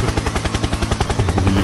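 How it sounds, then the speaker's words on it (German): Cartoon helicopter sound effect, a fast, loud rhythmic chopping of rotor beats that runs steadily and close throughout. "Helikopter, Helikopter."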